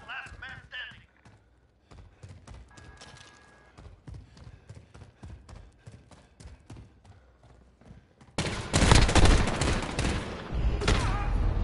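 Gunfire in the video game Call of Duty: Modern Warfare, a run of sharp individual shots and clatter that gives way to a loud, sustained burst of rapid fire near the end.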